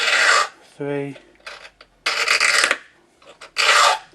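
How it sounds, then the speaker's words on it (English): Steel file rasping across a brass key blank during lock impressioning, several separate bursts of scraping strokes with brief pauses between them, close and clear, while a voice counts quietly between strokes. "file the side, gradually straightening the key up until you've got a small groove, then do your filing"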